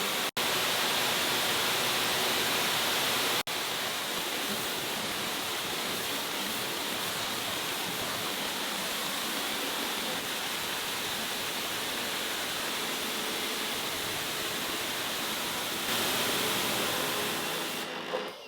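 EGO 3200 battery pressure washer sprays steadily with a turbo yellow tip while drawing water from a bucket, a loud continuous hissing roar that holds for the whole stretch without pause and sputters slightly at the very end as air is sucked in.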